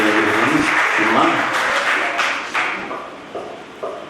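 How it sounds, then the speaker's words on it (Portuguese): An audience applauds speaker Leandro Ramos at a religious formation talk: a broad wash of clapping that thins and trails off in scattered bursts, with a voice speaking over it. "Salva de palmas para Leandro"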